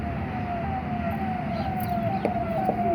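A police car siren wails steadily in a slow falling tone during a village election scene, loud and close with traffic noise underneath and no talking.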